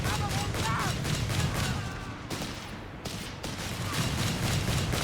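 Heavy automatic gunfire in a Company of Heroes 3 battle, a dense steady clatter of rapid shots running throughout with a commentator's voice talking over it.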